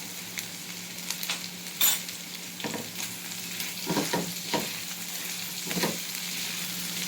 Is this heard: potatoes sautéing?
yes